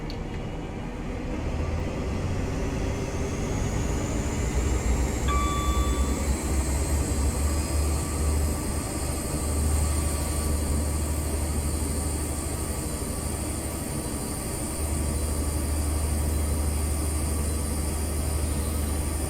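A Class 43 HST diesel train in Train Simulator Classic powers up and accelerates out of Bristol, giving a steady loud engine roar with a rising whine and a low rumble throughout, and no talk.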